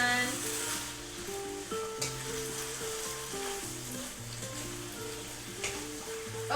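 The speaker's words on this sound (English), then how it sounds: "You hear that sizzle?" Thai drunken noodles frying in a pan, with a steady sizzle running throughout beneath louder music.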